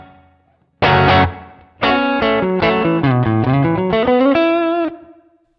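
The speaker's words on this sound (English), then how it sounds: "Let's hear the spring." A distorted electric guitar through a Pocket POD plays a chord, then a melodic run of notes, each ringing with a splashy spring reverb tail that lingers as it fades.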